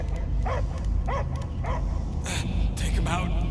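Dog barks and yips from the Guardians of the Galaxy video game, several short barks spaced through a few seconds of dense game audio, heard alongside character voices and a steady background score.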